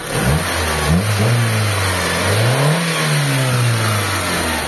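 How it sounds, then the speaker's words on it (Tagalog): A Mitsubishi Lancer engine, just after a carburetor cleaning, revs up and down in repeated swells, its pitch rising and falling steadily, close and loud, with no talking. "So i-rev ko."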